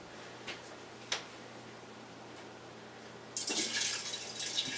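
Alcohol and cannabis mixture draining through funnels gives a few faint drips over a steady hum, then a louder, continuous rush of liquid pouring near the end.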